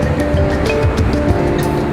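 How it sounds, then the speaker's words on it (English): Ocean surf breaking just outside a harbor on a windy, rough day, heard as a steady broad wash of roaring water with a low rumble, fairly loud and continuous with no voices. "just outside the harbor, the waves break"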